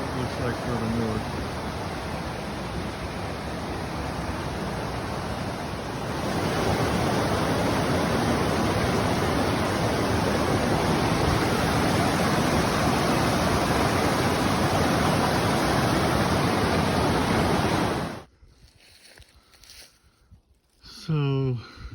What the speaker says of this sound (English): See a sign, but I'm sure hoping this is the Thompson River.